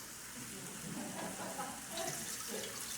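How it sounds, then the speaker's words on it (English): Roughly ten cups of water pour into a cooking pot for turtle stew, a continuous soft splashing and gurgling that holds at a low, even level for the whole stretch. "Now this is about 10 cups of water that I'm pouring in there."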